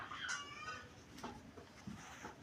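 Chickens on a farm cluck softly in short, scattered calls at moderate distance, with faint background noise and no clear talk.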